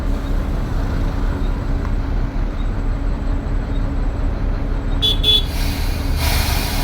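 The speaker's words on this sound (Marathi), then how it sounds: "तर मित्रांनो, तर अर्ध्या तासानंतर ट्रॅफिक लागते" Highway traffic on the road from Mumbai to Chiplun, a constant loud engine and tyre roar with a couple of short horn toots near the end.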